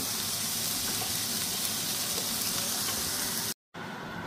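Raisins fry in a pan for Afghan Qabuli pulao, a steady dense sizzle holding close and loud throughout, broken by one brief dropout near the end before the crackle resumes.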